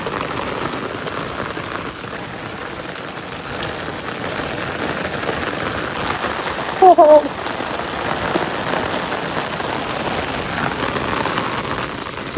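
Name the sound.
heavy rain falling in a village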